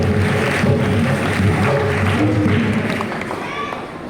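Applause from a church congregation at a Christmas service in a Methodist church in Colaba, Mumbai: a steady, dense wash of clapping that holds at even loudness for the whole stretch, with voices mixed into the crowd.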